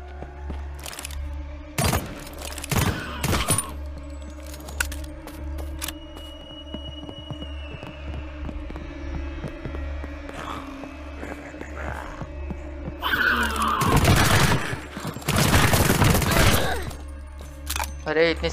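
Gunfire in the zombie video game Deathly Stillness erupts in two loud volleys, a short burst early and a longer barrage later, over a steady low background hum.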